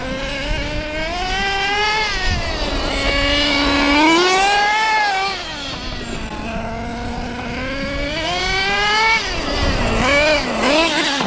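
A nitro-powered HPI RC truck with a .18 engine screams loud and close, its high whine rising and falling steadily through repeated throttle swells for about eleven seconds.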